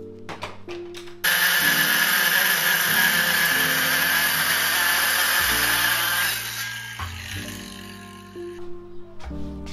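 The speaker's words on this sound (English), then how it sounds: "I then trimmed away at the material using a trim router and cleaned off the edge with an orbital sander." A trim router and orbital sander work a wooden block for a monitor stand: a loud, steady high whine holds for several seconds after a few short bursts, then slows and winds down to brief starts.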